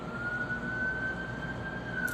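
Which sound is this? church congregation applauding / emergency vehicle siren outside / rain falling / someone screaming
emergency vehicle siren outside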